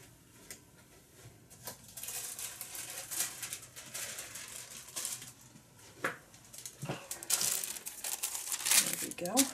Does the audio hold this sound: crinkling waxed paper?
yes